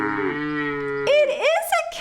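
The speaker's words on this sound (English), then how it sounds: "The cow says, moo." A cow moos: a long, low, tonal call that bends downward, followed by a second, rougher lowing burst, close and clear with no other sounds.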